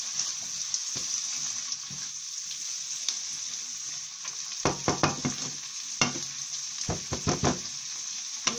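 Chopped onion and tomato sizzle and fry in a pan for a Punjabi lauki and vadi sabzi, with a steady hiss throughout and louder bursts of stirring and scraping, no talking.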